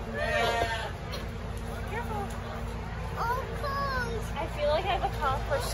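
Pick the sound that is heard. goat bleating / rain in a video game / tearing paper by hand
goat bleating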